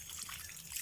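Water trickles quietly and steadily from a household pipe during a water-line repair, a soft continuous dribble heard alone.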